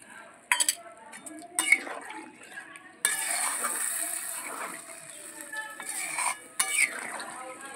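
Water and fried potatoes go into a pot of aar fish curry: a few sharp clinks of a utensil against the pot, then a sudden rush of hissing and bubbling that carries on with more scattered clatters.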